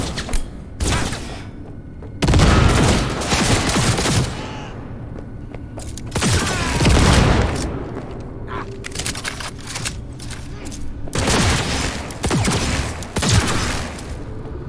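Gunfire in the video game Cyberpunk 2077, with repeated bursts of shots and booming impacts at a loud, uneven pace across the whole stretch, under game sound and occasional voices.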